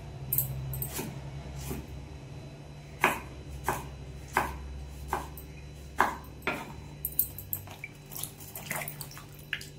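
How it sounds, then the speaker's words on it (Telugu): Knife chopping washed tomatoes and okra on a board in a home kitchen, a dozen or so sharp separate knocks in an irregular rhythm, close and fairly clear over a low steady hum, with no talking. "టమోటాలు, బెండకాయలు అన్ని శుభ్రంగా కడుక్కొని కట్ చేసుకోవాలి"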